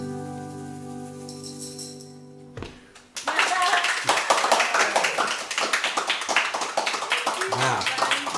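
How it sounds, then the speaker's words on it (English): A small live audience of family and friends claps after a song at a livestreamed band performance, with quick, bright, uneven applause bursting in right after the song's last sustained notes fade out. "That's not canned applause."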